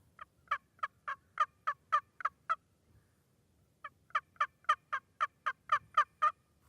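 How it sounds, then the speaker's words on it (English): A turkey box call makes two quick runs of about eight sharp, evenly spaced clucks each, separated by a short pause, crisp and close with no talking. "Cluck kind of sounds like this."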